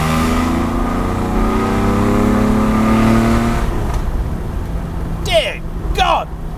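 A TVR Tuscan S engine revs hard, its close, loud tone climbing steadily for a few seconds before dropping away, followed by a couple of short sharper bursts, with someone talking over the end.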